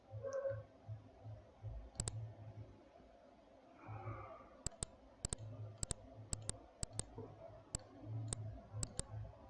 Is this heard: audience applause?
no